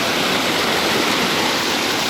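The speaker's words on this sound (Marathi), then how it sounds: "धबधबा. ब्राह्मण देव मंदिर" Steady roar of the Brahman Dev waterfall, a village cascade, falling heavily as close, loud broadband rushing water with no break across the moment.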